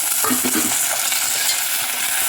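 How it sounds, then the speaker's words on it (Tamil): Onion and tomato sauté in a pan with a dense, continuous sizzle and a few soft stirring scrapes near the start, close and fairly loud. "நல்லா வதக்கிட்டு உப்பு சேர்த்து விட்டுடலாம்"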